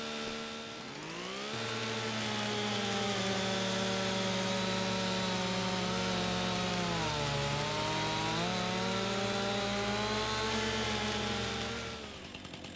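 Chainsaw cutting logs in Farming Simulator 25, a loud, continuous buzzing whine that starts up, holds steady with slight pitch dips under load, then cuts off.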